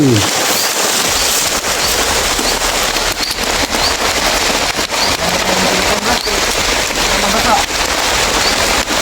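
Steady heavy rain hisses across the whole stretch, a dense wash of noise with scattered sharp taps and crackles, loud and close throughout with no pause.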